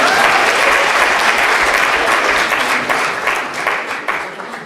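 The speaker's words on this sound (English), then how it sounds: "Guys, I want you to clap if you're up for it." A lecture-hall audience at the London School of Economics claps loudly in a dense, sustained burst of applause that gradually thins and fades toward the end.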